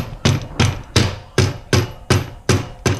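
A mallet drives a sealed bottom bracket bearing into a BMX frame with eight loud, evenly spaced knocks, each a sharp thud that rings briefly before the next, with no voice.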